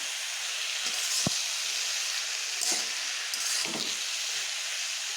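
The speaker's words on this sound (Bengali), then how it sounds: "এবার এগুলোকে বেশ ভালোভাবে ভেজে নেব" Pieces of taro (kochu) fry in a pan, a gentle steady sizzle with a few sharper crackles and pops scattered through it, heard close and fairly quiet.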